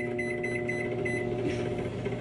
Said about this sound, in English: You just put it in the microwave and you're good to go.